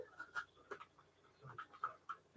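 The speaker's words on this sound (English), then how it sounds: "My dog, I don't know, is whining." A dog whines softly in short, high, thin bursts, scattered across a quiet kitchen scene with faint background noise and no talking.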